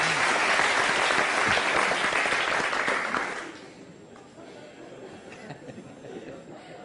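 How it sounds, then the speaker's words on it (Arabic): An audience at a comedy show breaks into loud applause that holds steady for about three seconds. It then fades quickly into quieter crowd murmur and a few scattered claps. "تصفيق على المشاريع"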